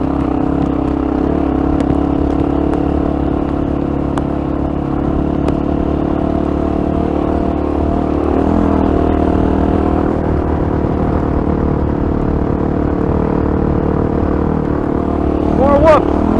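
A Honda XR650L motorcycle runs on steady throttle through deep sand, its engine a loud continuous drone with slight rises, close to the rider, while someone talks over it throughout.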